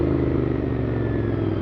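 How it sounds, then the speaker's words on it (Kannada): A Royal Enfield GT 650 with its stock exhaust gives a loud, close, continuous engine rumble that stays dense and steady throughout, with no separate pops or bangs standing out. "ಸ್ಟಾಕ್ ಎಕ್ಸಾಸ್ಟಲ್ಲೇ ಒಳ್ಳೆ ಪಾಪ್ಸ್ ಆ್ಯಂಡ್ ಬ್ಯಾಂಕ್ಸ್ ಬರುತ್ತೆ ಗುರು."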